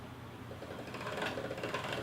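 Pasta dough cranked through the fettuccine cutter attachment of a hand pasta machine, a faint, continuous mechanical whirring and ticking of gears rising slightly in loudness, close by with no voices.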